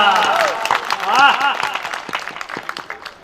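Audience clapping at a Hindi comic poetry gathering at a festival kavi sammelan, scattered claps mixed with laughter and a voice speaking over the crowd.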